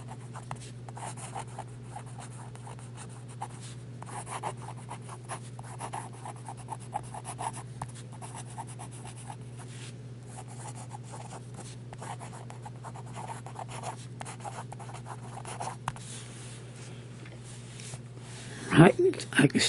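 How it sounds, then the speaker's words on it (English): A Cross Century fountain pen nib scratches softly across paper in a long quiet stretch of continuous writing, with a low steady hum underneath and a few louder handling knocks at the end. "It does deliver the ink, and we'll do some writing."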